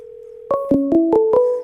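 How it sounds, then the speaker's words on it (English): A phone dials a call: a steady tone gives way to five quick, evenly spaced touch-tone beeps, loud and clear with no voices. "now it's going to dial it. It's dialing me on my phone."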